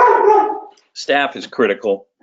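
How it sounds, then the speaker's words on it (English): A dog barks in the background, one drawn-out bark before a person speaks over a quiet room. "Sorry about the dog barking in the background."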